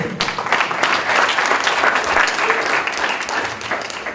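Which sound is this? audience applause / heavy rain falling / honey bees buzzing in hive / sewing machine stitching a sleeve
audience applause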